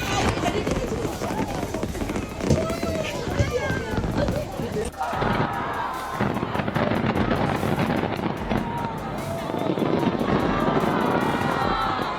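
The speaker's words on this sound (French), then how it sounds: "Spectacle de feux d'artifice de la fête nationale au port Victoria Hong Kong" Booming fireworks burst repeatedly over a noisy outdoor crowd at Victoria Harbour, Hong Kong, for the National Day display, with people talking and cheering throughout and wind buffeting the microphone.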